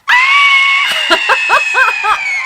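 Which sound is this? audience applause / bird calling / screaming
screaming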